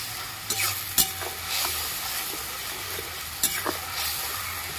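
Masala sizzles and fries in a pan during preparation of Bengali cholar dal, with a steady broadband hiss broken by a few sharp spoon scrapes and clinks against the pan; close and moderately loud, no talk.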